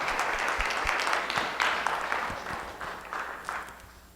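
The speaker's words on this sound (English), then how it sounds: "Let's give him a round of applause." An audience at a talk on structuring a student helpdesk breaks into applause, a dense wash of many hands clapping close and loud, slowly fading over a few seconds.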